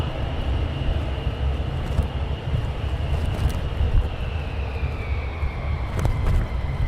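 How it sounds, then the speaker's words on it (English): F-35 fighter jets taxi at RAF Lakenheath, a steady distant rumble topped by a thin, drawn-out engine whine that slowly shifts in pitch. "some more F35s are taxiing down, guys."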